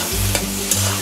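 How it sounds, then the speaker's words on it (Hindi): Chopped onions fry in a hot pan for a prawn masala curry, giving a loud, brief continuous sizzle with a couple of stirring scrapes. "इसमें हम डाल देंगे ये 2 कटे हुए प्याज। प्याज को हम 2 से 3 मिनट भून लेंगे अच्छी तरह से"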